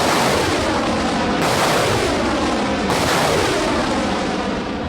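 Artillery fire in a military setting, heavy and continuous: loud broadband booms and rumbling blasts fill the whole stretch, with sharp onsets of new shots about every one and a half seconds.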